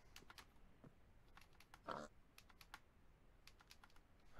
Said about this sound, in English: The springs in my keyboard.